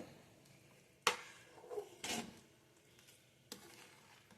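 Rice rava upma with plenty of vegetables is stirred in a pot: a few separate scraping, clattering strokes of a spoon against the metal, close and fairly crisp, with soft quiet between them and no talk.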